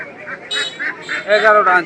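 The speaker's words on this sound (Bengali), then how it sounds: "এই দেখেন এই সাইড পুরোটাতেই কিন্তু হাসে ভরপুর" Domestic ducks quack repeatedly at close range at Dhara Bazar market in Haluaghat, with several nasal calls overlapping in a busy cluster.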